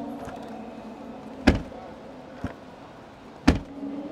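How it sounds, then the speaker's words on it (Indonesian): The tailgate of a Japanese-market Daihatsu Rocky is shut outdoors, giving two sharp thuds about two seconds apart with a fainter knock between them over steady background hum. "suara nutup pintu bagasi Rocky Jepang sama Rocky lokal itu agak beda"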